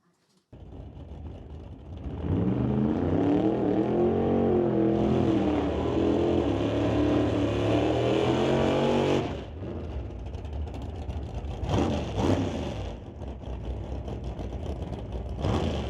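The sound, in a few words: drag race cars accelerating down the track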